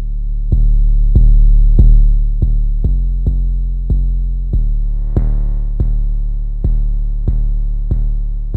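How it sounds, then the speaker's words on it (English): Beat built in a DAW with a clip distortion effect applied: heavy, buzzy bass notes pulse in a steady, uneven rhythm of about a dozen hits, loud and saturated, with no voices. "Is there like a soft clipper? Let's try, oh, clip distortion."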